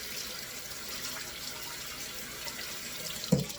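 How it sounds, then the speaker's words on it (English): A kitchen tap runs steadily during handwashing, a soft continuous hiss of water with a brief clatter near the end. "Wash our hands."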